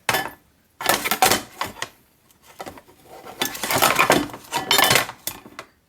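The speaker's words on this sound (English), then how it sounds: "Put the strainer like so." A metal strainer clatters down among dishes in a kitchen sink, giving a series of close, sharp metallic clinks and rattles in several bursts.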